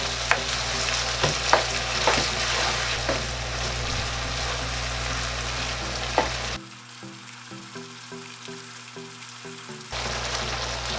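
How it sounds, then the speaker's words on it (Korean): Steady sizzling and crackling of noodles and vegetables stir-frying in a hot pan, with occasional scraping clicks from a utensil, interrupted briefly midway. "이 정도 익을 때까지 볶아주면 됩니다."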